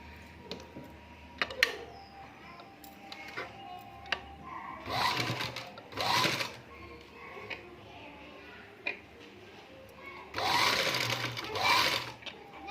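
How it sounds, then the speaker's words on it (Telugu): A sewing machine stitches around the neck of a blouse, running in several short, close bursts of rapid whirring, with soft handling noises and a low voice heard between runs. "ఇదే విధంగానే మొత్తం బ్లౌజ్ మొత్తం స్టిచ్ చేసేయండి"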